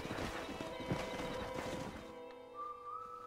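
A stallion in the Red Dead Redemption video game whinnies loudly over a run of clip-clopping hooves, the neigh fading into a thin whistling tone near the end, with no talk.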